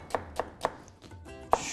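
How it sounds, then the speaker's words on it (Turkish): Onion chopped finely with a knife on a board in an Anatolian kitchen, a series of crisp close thuds in a fairly even rhythm, one louder cut at the end, no talk. "Soğanımızı ufak ufak doğrayalım."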